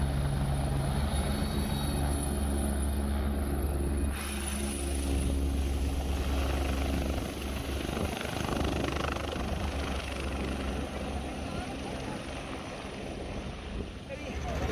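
A helicopter flies near the Kedarnath landing area. Its rotor and engine make a steady, droning rumble throughout, and a voice talks over it.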